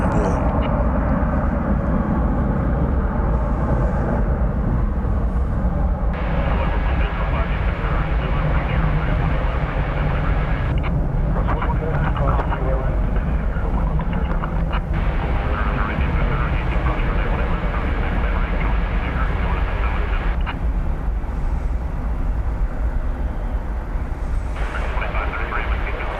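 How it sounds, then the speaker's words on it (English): A Turkish Airlines Boeing 787-9 Dreamliner at night at DFW Airport gives a steady distant jet rumble and hum, running continuously while a person talks over it. "Turkish flight 192, a Dreamliner -9"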